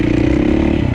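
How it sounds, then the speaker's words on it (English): 2016 Husqvarna FC450 dirt bike engine running at a steady idle, a loud close mechanical thrum with a fast even pulse throughout the brief moment. "this is my 2016 Husqvarna FC450 engine"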